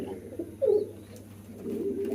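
A pigeon gives a soft, throaty coo at close range on a pigeon farm during feeding, followed by low murmuring coos and light rustling.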